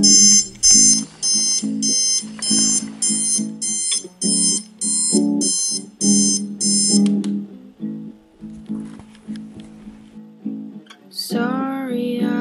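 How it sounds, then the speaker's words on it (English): Loud electronic alarm clock going off in the morning, repeating rapid beeping bursts for several seconds before stopping, followed by softer rustling and a brief tonal sound. "my annoying alarm goes off."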